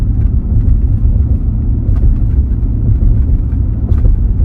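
A GMC Yukon Hybrid engine idles after a cylinder head rebuild, giving a loud, continuous low rumble with a subtly uneven, surging rhythm.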